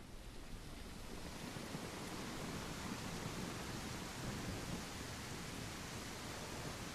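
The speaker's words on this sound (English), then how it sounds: "we have awesome clouds with rain" Steady rain hiss fills an Unreal Engine 5 open-world game scene, a constant, even wash of falling water with no distinct drops standing out, faint and continuous throughout.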